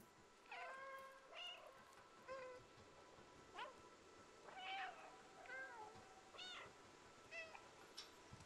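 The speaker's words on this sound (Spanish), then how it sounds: "Si maullamos 100 veces, es un trofeo" Cat meows from the video game Stray, a series of distinct, fairly quiet meows repeated at irregular intervals, each short and tonal, with no talking.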